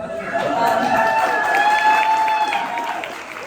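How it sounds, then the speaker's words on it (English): An audience claps at a book tour event for a graphic novel, with steady applause and cheering voices rising above it, then fading slightly toward the end. "You can keep clapping. I do not say no to applause."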